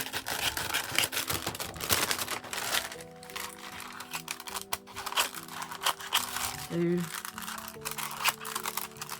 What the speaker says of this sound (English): I'm literally just going to cut down the bag and around